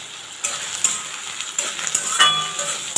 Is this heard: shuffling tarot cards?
no